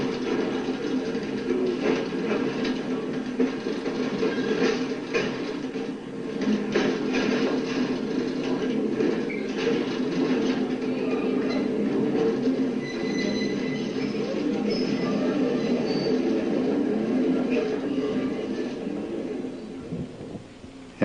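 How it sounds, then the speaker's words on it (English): British Columbia Electric Railway freight train climbing Sperling Hill, a steady heavy rumble and drone of the engine working upgrade with faint wheel squeals and birdsong in the background, continuous throughout. "That's quite a pull for the freight train"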